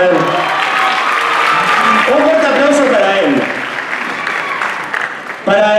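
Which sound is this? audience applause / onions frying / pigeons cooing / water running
audience applause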